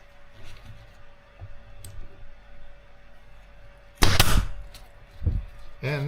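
A staple gun fires staples into a car door card during a BMW 2002 restoration, giving one loud sharp snap and then a second smaller bang over quiet room noise.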